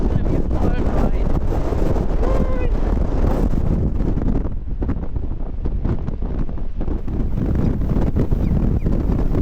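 Strong gusting wind buffeting the microphone outdoors in Iceland, a loud continuous low roar and rumble filling the whole stretch, with a voice faintly speaking beneath it.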